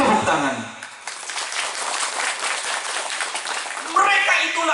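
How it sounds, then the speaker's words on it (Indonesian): Audience at an outdoor religious sermon in a village breaking into brief, fairly loud applause of many hands, bracketed by someone speaking over a PA before and after. "Tepuk tangan."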